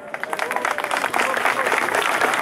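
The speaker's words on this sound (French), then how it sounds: "on peut l'applaudir" An audience at a political meeting applauds an elected official from the Val d'Oise, with a thick, continuous patter of many hands that swells slightly toward the end.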